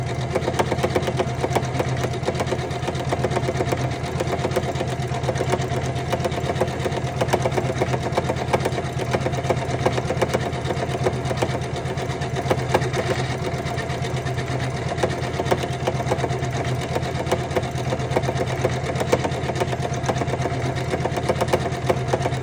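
A Janome embroidery machine stitching a 16,000-stitch design in a 200 by 200 frame, giving a steady, continuous mechanical whir and rapid needle chatter that runs unbroken and fairly close throughout, with no talking.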